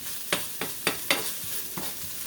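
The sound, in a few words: vegetables sautéing in a pan for red beans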